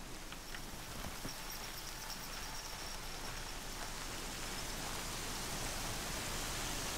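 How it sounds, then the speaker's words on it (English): Steady hiss of rain falling in the video game Horizon Zero Dawn, a dense broadband wash that holds at an even, fairly loud level throughout with faint scattered taps and no talking. "Oh no, it's starting to rain."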